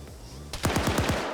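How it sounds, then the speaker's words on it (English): A SCAR 7.62 rifle fires a quick burst of about five evenly spaced shots in an Arma PvP video game. The shots sound sharp and fairly close, with no speech. "that's a friendly rifle firing"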